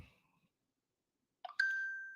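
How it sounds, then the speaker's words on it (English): A phone's notification chime, a short bright ding that rings out and slowly decays, preceded by a brief soft tap and a faint trace of sound at the start, otherwise quiet. "why is my phone going off like this?"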